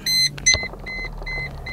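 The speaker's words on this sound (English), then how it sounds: "Keeping at me to put my seatbelt on." Electronic warning chime inside a 2004 Mercedes-Benz C240 wagon, a few separate bright tonal beeps repeating over the steady hum of the idling engine, close and clear.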